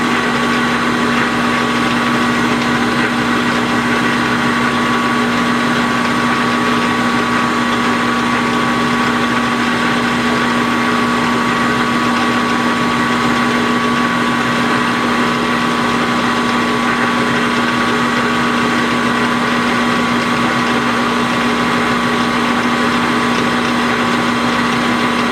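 Milling machine cutting through 1-inch thick material, a steady loud mechanical hum with constant motor tones running continuously without a break.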